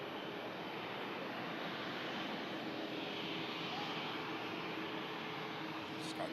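Airliner touching down on the runway at Manchester Airport, a steady broad roar of engines and rushing air held at an even level throughout, heard from a distance with no clear separate impact.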